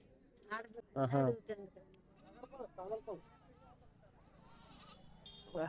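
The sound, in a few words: goats bleating at a tribal market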